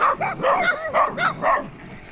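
Loose dogs in the Philippines bark in a quick burst of about five sharp, loud barks close by, ending in quieter yips.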